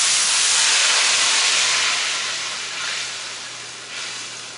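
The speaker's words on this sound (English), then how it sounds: "I'm going to deglaze." Liquid hitting a hot pan with stuck-on salmon bits hisses and steams loudly and steadily, the sizzle easing off gradually over several seconds with no talking.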